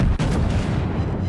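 Heavy naval gun salvo from a Kurfürst battleship firing twelve shells at an aircraft carrier in World of Warships, a loud, sustained booming rumble with a brief sharp report near the start.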